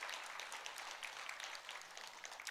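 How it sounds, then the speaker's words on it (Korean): Applause from a church congregation during a worship service, a steady wash of many hands clapping at moderate distance, fairly quiet, with no talking over it. "박수로 격려하십시오"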